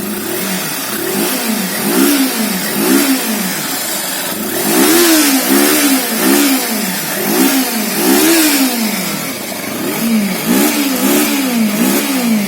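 Kawasaki Versys 300 motorcycle engine revving repeatedly, loud and close, with the pitch rising and falling in a steady series of throttle blips over a continuous rumble.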